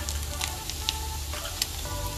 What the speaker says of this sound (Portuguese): fritando o bacon